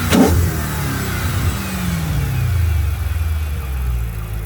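Chrysler 300C SRT8 with its 6.1-litre engine revs hard up close after a brief startup burst, then holds a loud, steady rumble with a slight swell toward the end and no one speaking.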